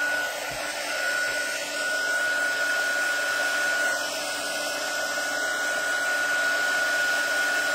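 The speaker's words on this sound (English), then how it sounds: "And then I'm going to hit this with the heat tool over here." A handheld craft heat tool blows steadily on a surface, a constant close whirring hiss that runs unbroken for several seconds without speech.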